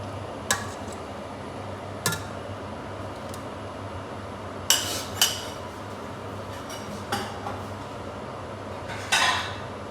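A lid clinks and clatters onto a metal cooking pot of simmering pointed gourd and pangas fish, several sharp metallic knocks spread apart over a steady background hum.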